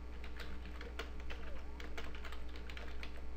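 Fingers type a name on a computer keyboard in a quick run of soft, close key clicks over a low steady hum, with no talking.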